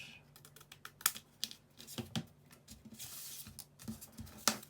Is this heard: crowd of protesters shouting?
no